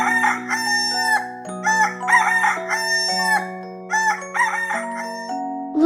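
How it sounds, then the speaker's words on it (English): A rooster crows in repeated cock-a-doodle-doo calls over a steady musical backing, its loud crows coming in several bursts close up with no talking. "Rooster."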